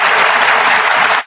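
An applause clap sound effect, a loud, dense burst of crowd clapping that plays alone and cuts off abruptly after just over a second.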